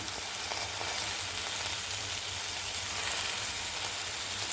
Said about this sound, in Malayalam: ഒരു പച്ചമുളക് ഇതൊക്കെ ഒന്ന് വഴറ്റിയെടുക്കാം.